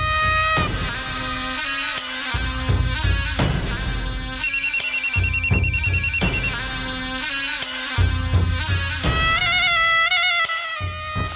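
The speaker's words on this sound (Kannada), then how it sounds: "ಸಾಹೇಬ್ರದೇ ಇರಬೇಕು ಫೋನು." In a TV serial scene, a telephone gives a pulsed, trilling ring that cuts in mid-clip over louder background music, with no talk.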